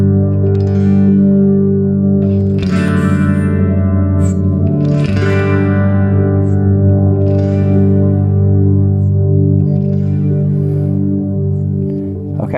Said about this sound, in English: Okay, big delay there.